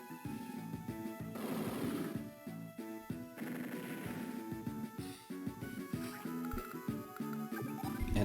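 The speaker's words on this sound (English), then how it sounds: "I can shoot this MD tank." A medium tank being shot in the Advance Wars 2 game, giving rapid bursts of retro gunfire and explosion effects over busy game music, faint throughout.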